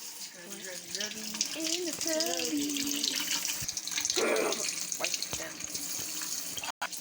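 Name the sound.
water running from tap, rinsing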